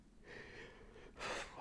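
A single odd half yawn, a soft drawn breath followed by a stronger airy exhale near the end, close and fairly quiet, alone without talk.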